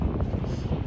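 Steady wind buffeting a helmet-mounted microphone while riding up in Val Tartano, a constant low rumbling roar with no clear breaks.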